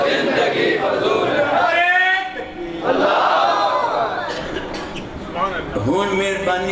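A crowd shouts religious slogans in rising unison cries, several loud call-and-response waves with a brief lull between them and a lone voice leading.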